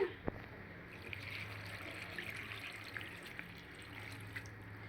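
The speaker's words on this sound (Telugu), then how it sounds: "ఇప్పుడు మనం మంచి నీళ్ళు పోసుకుందాం ఉడికించుకోవడానికి" Drinking water is poured from a vessel over washed, sliced cabbage in a pot set for boiling, giving a steady, soft trickling stream close by with a faint low hum beneath.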